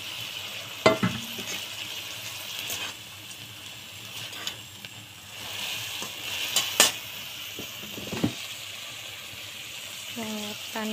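Fried fish pieces tip into a hot pan with jackfruit seeds and are stirred, a steady sizzle broken by scraping stir strokes and clinks, with a few brief kitchen knocks and a voice murmuring near the end.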